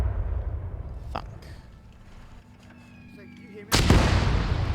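Artillery fire in a military video game: a sharp boom at about one second, quieter rumbling, then a loud broadband barrage erupting near the end and rolling on to the close, close and heavy.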